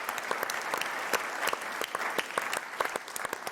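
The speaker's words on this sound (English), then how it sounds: "please let's give a big round of applause to all of the great staff at the Chamber" An audience at a business chamber conference breaks into steady applause, many hands clapping in a dense, continuous patter with a few sharper individual claps standing out.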